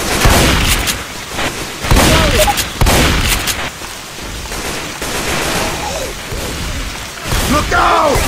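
Rapid bursts of gunfire in Left 4 Dead 2, loud and close, coming in repeated volleys with short gaps between them, with voices calling out over the shooting.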